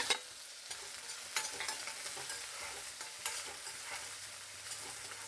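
Garlic and curry leaves frying in oil for a tempering alongside onions, a steady close sizzle with a few sharp spatters and occasional stirring scrapes, no voices.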